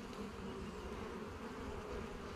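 Honey bees buzzing at an open beehive frame during an inspection of colonies being fed, a dense, steady, close drone from many bees with no voices.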